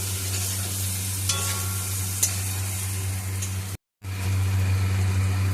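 Fried bitter gourd is stirred through a sizzling pan mixture for a potato and bitter gourd dish, with steady frying hiss, occasional scraping, a low background hum and a brief cutout.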